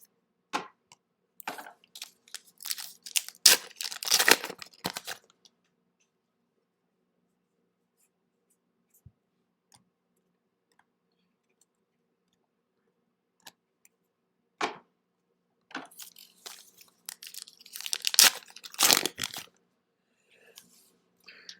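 Paper trading card packs torn open and handled, bursts of crinkly ripping and rustling in two clusters separated by a long near-silent pause, close and fairly quiet.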